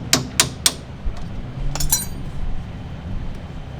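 Three sharp metallic hammer-and-punch strikes on a car part ring out in quick succession near the start, followed by a pair of fainter taps and low workshop background noise.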